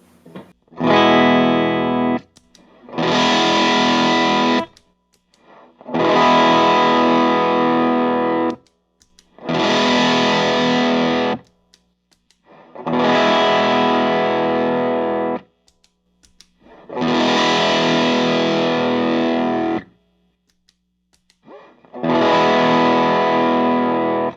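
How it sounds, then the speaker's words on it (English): An electric guitar plays through an Ibanez TS9 and a Fulltone OCD overdrive pedal at matched drive levels in seven separate strummed bursts, each a few seconds long, with short silences between them. "Getting quite a bit of a tonal difference as well between the two overdrive pedals at the same drive level"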